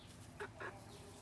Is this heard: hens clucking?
yes